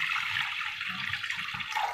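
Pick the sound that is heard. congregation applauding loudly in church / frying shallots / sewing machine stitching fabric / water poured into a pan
water poured into a pan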